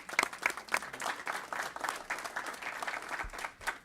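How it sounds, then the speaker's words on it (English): Applause from a city council chamber audience honoring staff members, a steady wash of many hands clapping at moderate volume with a few sharper claps standing out near the start. "Let's give them a nice round of applause"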